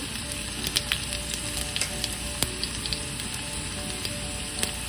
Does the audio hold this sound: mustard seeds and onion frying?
yes